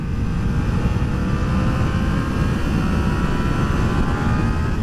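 Motorcycle engine held at steady revs in first gear, a loud continuous droning roar that stays constant throughout with no speech.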